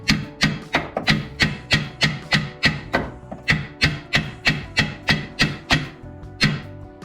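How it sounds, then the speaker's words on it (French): Sharp metallic hammer taps strike a part on a VW Golf 2 in a steady, even rhythm, close and fairly loud, with about two hits per second and no talking. "Alors, prendre directement le marteau,"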